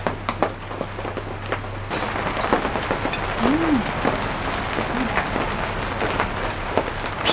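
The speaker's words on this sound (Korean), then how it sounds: "비가 그칠 줄 알았는데 비가 안 그쳐서" Rain falls steadily on a camping hub shelter, a dense close patter of drops with scattered louder taps, and one brief chirp partway through.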